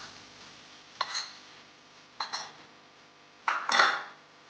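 A spoon scrapes and clinks against a pan three times while stirring spicy potato masala with turmeric, each stroke a short metallic scrape spaced about a second apart, close and moderately loud.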